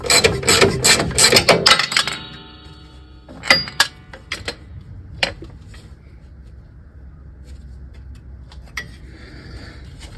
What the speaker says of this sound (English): We can now go ahead and take out these bolts.